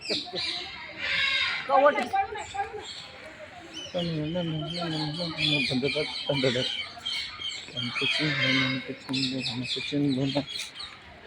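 Loud, harsh squawks and screeches from a macaw, repeated in bursts with short pauses, close by and dominating.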